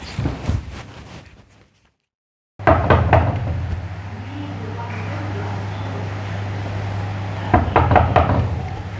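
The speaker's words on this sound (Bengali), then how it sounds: "বারবার কি দরজা টাক দেওয়া লাগে" Several loud, sharp knocks on a door come in quick bursts at the start and again near the end, over a steady low engine-like hum.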